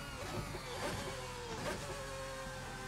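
A rear-engined GT race car in Assetto Corsa revs with a steady mid-pitched engine drone that swells and eases in a few pulses, heard alone without talk.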